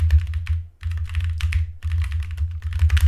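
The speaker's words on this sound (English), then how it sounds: "I see it picking up a lot of key chatter." Computer keyboard key chatter picked up by a HyperX Solocast USB microphone: rapid, close clicks of typing in quick irregular bursts, with a short pause partway through and a low hum underneath.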